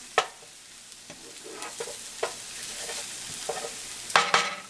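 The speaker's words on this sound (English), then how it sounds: "I love ginger and garlic together sauteing" Ginger, garlic and pepper sautéing in olive oil, a steady close sizzle broken by scattered clicks and scrapes of stirring, with a louder clatter of utensil knocks near the end.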